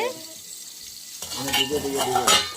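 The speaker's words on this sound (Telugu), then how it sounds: "పెను కూడా హీట్ అయ్యింది ఇంకా దోశ పోసుకున్నాం" Mung bean batter for pesarattu dosa sizzles on a hot pan, starting as a quiet hiss and then turning into louder crackling frying with faint stirring and utensil clinks.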